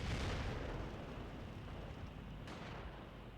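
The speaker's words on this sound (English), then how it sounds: "Artillery still doing the work, laying down some fire onto the mortars here" Artillery fire in a strategy war game, a continuous dense rumble of distant blasts that stays steady and fairly faint throughout, with one brief sharper crack partway through.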